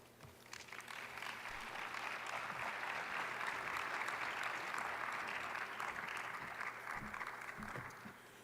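Polite applause from a large audience at the plenary session of the 15th World Forest Congress, steady clapping that swells, holds for several seconds, then fades near the end.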